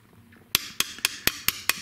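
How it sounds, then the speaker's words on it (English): Six sharp metallic hammer taps, close and evenly spaced, knocking a pin out of a Beeman Bullpup under-lever air rifle, with silence before the first strike. "If you need to tap it with a hammer,"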